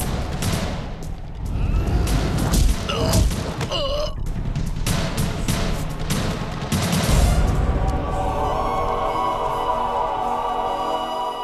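Rapid bursts of gunfire in a dubbed action film crackle without pause over several seconds, loud and close, with a ringing, music-like tone rising near the end.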